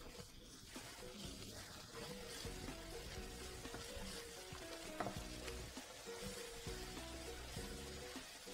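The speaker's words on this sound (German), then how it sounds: "Nun wirst du das eigentlich kurz anbraten, bis die Farbe etwas dunkler wird." Steady frying sizzle of spice paste for nasi goreng in a pan, continuous and close, with occasional stirring clatter and scraping throughout.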